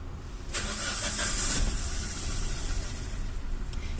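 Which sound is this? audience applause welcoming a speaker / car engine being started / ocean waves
car engine being started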